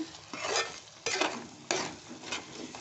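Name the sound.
stirring brinjal curry in a pan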